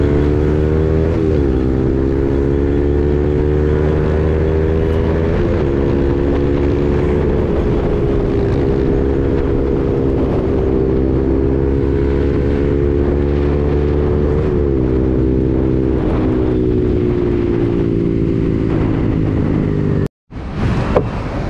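A motorcycle ridden at full throttle on a road in India, its loud engine drone holding steady with slight pitch rises and dips for about twenty seconds before cutting off abruptly near the end.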